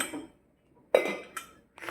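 Bottles and kitchen utensils are picked up and knocked together: a few short, bright clinks and clatters close by, separated by brief silences.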